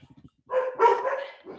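A dog barks and yelps in a short burst of a few close, loud barks after a brief quiet start, with some whimpery tone at the end.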